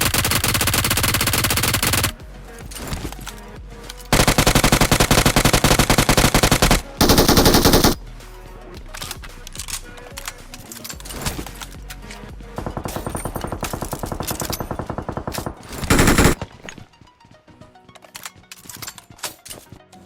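Machine gun fire in the mobile battle royale game BGMI, with long, loud sustained bursts broken by short pauses and quieter stretches of scattered shots across the whole stretch.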